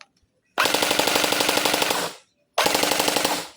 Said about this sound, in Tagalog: Full auto.